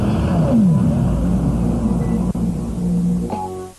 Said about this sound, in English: you can see the cars coming around now for the start of the second Super Touring Car race